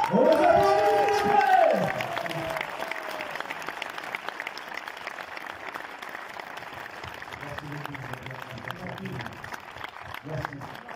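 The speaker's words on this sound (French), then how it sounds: "Marcel, on vous applaudit." Audience applause at a film premiere for Mercato, with a voice and crowd noise at the start before steady clapping continues at moderate level, with scattered voices underneath.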